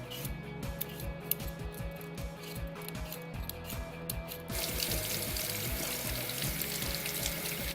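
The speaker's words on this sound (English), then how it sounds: "Then prepare your potatoes by peeling and rinsing them." Sweet potatoes being peeled in quick, rhythmic scraping strokes, then rinsed under a steady rush of running tap water for the last few seconds, close by with no talking.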